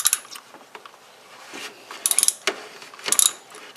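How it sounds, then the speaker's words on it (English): An oil filter wrench loosens the oil filter on a 2008 Toyota RAV4 with a 2.4L 2AZ-FE engine. Close metallic clicks and ratcheting come in short irregular bursts, separated by quieter gaps, and no one speaks. "Okay, so we put our little oil filter wrench on that"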